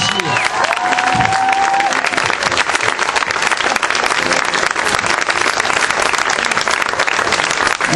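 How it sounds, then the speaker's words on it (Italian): An audience at a school year-end folk group event claps loudly and continuously, with some cheering mixed into the dense applause. "Grazie a tutti voi altri degli applausi"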